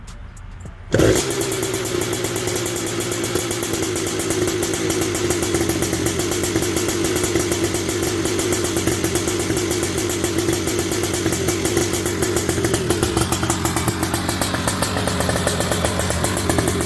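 A cold high-compression two-stroke engine fires after a brief kick, then runs loud and close with a steady buzzing, crackling drone that stays strong and unbroken throughout.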